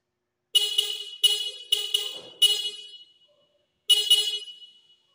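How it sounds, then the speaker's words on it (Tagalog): A Toyota Wigo G fitted with a Bosch Europa horn blares in five loud honks, four quick ones in a row, then a pause before a final longer blast. "So ayun ang tunog niya."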